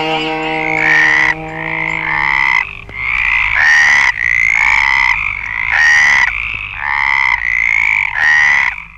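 A frog croaks loudly and close in a steady series of nasal, rasping calls repeating about once a second, alone with no other sounds.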